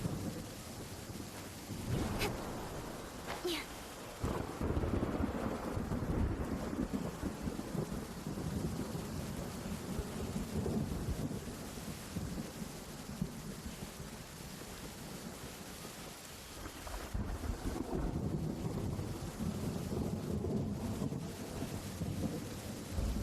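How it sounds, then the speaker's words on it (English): A heavy rain downpour with rolling thunder in the video game Genshin Impact, a dense steady roar of rain broken by sharp thunder cracks and low rumbles throughout. "Quite a downpour."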